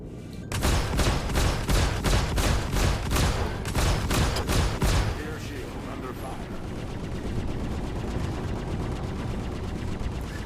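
Rapid bursts of heavy Gatling cannon fire in the video game Star Citizen ring out in quick succession, then give way to a lower rumbling roar with faint sporadic shots.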